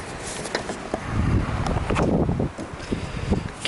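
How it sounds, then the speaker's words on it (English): Wind gusts outdoors beside a 1993 GMC Sonoma work truck, a steady rushing buffeting with scattered rustling and light knocks, moderately loud. "Getting windy."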